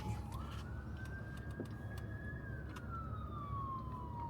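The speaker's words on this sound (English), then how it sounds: "I hope whoever that ambulance is going to is okay" An ambulance siren wails steadily at moderate distance, its tone rising then slowly falling as it passes, over a constant low rumble of background noise.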